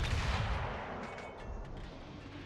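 Secondary guns of the battleship Prinz Heinrich firing in a naval video game, a dense rumbling barrage of booming shots that carries on steadily throughout with no voice over it.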